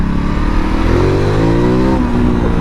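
A 2019 Ducati Multistrada 1260 Pikes Peak Edition engine revs up and climbs in pitch under load, loud and close, then eases back slightly over a constant roar of riding noise.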